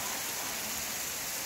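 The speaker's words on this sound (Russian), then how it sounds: "в порту Монтенегро идет то ли дождь, то ли град" Rain or hail falling at Port Montenegro on a December day, heard as a steady, even wash of hiss with no distinct drops standing out, fairly faint and continuous throughout.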